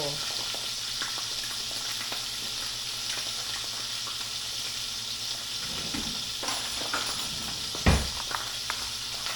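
Food frying in a pan while bottle gourd is being peeled nearby, a steady soft hiss and sizzle throughout with scattered small pops and a brief clatter near the end.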